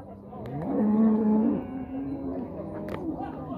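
Heifers at a cattle market in Águas Belas, Pernambuco, give a loud, drawn-out moo that swells and then trails off into lower lowing, with faint crowd noise and someone talking around it.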